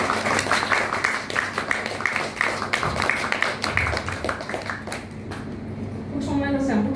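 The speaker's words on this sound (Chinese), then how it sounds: "拍手鼓励好不好？" Wedding guests applaud during a vows exchange at KLCC: a burst of brisk clapping fills the first few seconds, then thins out as a voice carries on and the room grows quieter.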